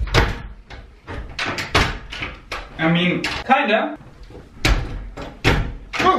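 A freshly repaired door being worked open and shut, with several sharp knocks and clacks of the latch and frame scattered among close talking and a brief scraping rattle.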